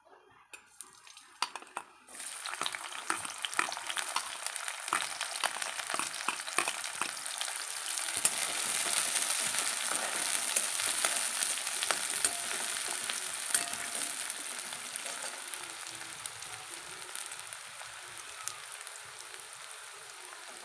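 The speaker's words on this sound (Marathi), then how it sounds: "आपण त्यामध्ये चिरलेला बारीक कांदा आणि टोमॅटो घालूया" Chopped onion and tomato hit hot oil in a pan for okra masala, an initial quiet moment giving way to a loud, continuous sizzle with occasional stirring clinks, steady and close.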